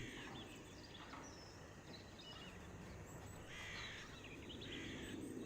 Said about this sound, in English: Some crows on this map as well. Can you hear those crows?